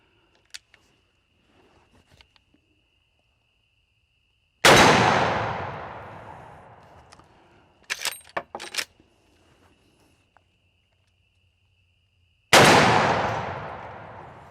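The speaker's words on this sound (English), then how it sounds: "First shots with the Henry X model side gate, side load gate" Two loud, booming rifle shots from a Henry X Model side-gate lever-action in 45-70, fired outdoors about eight seconds apart, each with a long rolling echo; between them come a few metallic clicks and clacks of the action being worked.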